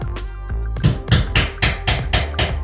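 A hammer drives a nail set to knock the pin out of a door hinge, giving a quick series of about six sharp, close metallic strikes in a steady rhythm.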